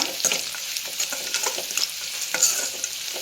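Curry ingredients for Andhra-style uggani fry in a hot pan with salt, a close bright sizzle broken by scraping stir strokes in an uneven rhythm, with no talk.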